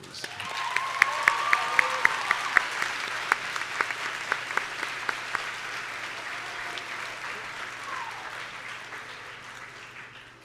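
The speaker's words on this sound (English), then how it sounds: "if you would rise and express your gratitude with a big round of applause" Standing audience at the 2012 BHS high school graduation ceremony gives a sustained round of applause lasting about ten seconds, fairly distant and moderately quiet, with a few sharp individual claps standing out early before the clapping evens into a steady wash.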